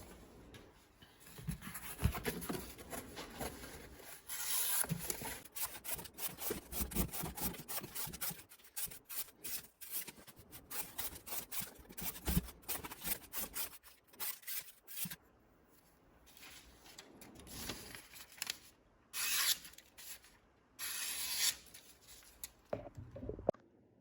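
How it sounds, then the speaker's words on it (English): A fixed blade knife with a factory edge cuts into cardboard up close. Rough rasping strokes come in quick repeated bursts, broken by short pauses, with no talking. "Alrighty, we're gonna do some cardboard, and this is the factory edge."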